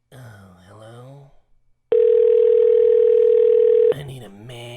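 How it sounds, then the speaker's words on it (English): Outgoing phone call ringing: a single loud, steady ring tone lasting about two seconds, preceded and followed by people talking. "Let's click call. Get the phone ringing."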